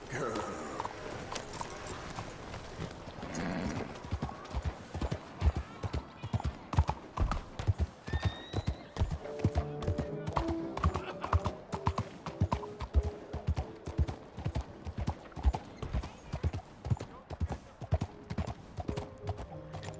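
A horse in Red Dead Redemption 2 clip-clops along in a steady rhythmic gait that grows louder and more regular, with saddle creaks and faint game ambience underneath.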